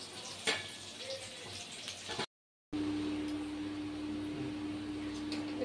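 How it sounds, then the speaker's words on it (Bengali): Onions fry in oil in a wok for a mutton and potato dish, giving a soft, continuous crackling sizzle close by, broken by a brief moment of silence before the frying resumes. "পেঁয়াজগুলো একটু ভাজা ভাজা করতে হবে।"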